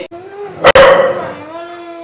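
A dog lets out one loud, sharp bark close by, cutting through a quieter indoor background with faint tonal sounds before and after.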